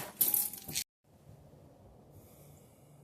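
A bunch of keys jangles close by in a short, bright metallic burst lasting under a second, followed by near silence with a faint low background.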